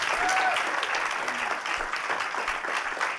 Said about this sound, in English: ladies and gentlemen, please give a round of applause, Mr. Mike McShane.